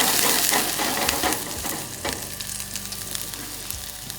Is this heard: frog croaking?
no